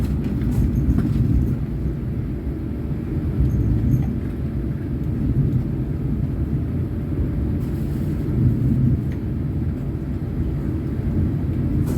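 The Argo Muria passenger train rumbles at Tegal station in Indonesia in the early morning, a continuous loud, low rolling roar lasting throughout with no talk.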